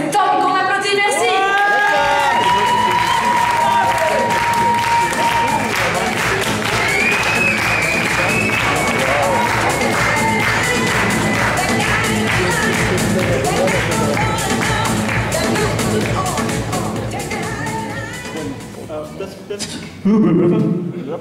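A slam poetry audience bursts into loud, sustained applause with cheers and whoops for a performer, clapping dense and steady for most of the time before fading, with a voice speaking briefly near the end.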